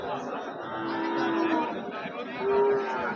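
Bull calves at Joypurhat's Notun Hat cattle market moo twice, drawn-out and close by, over a steady murmur of crowd chatter.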